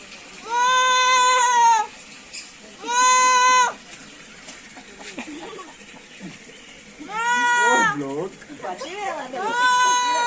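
A child gives drawn-out, wavering vocal imitations of a cow's moo, repeated in several long bursts separated by short pauses, with an adult's quieter voice between them.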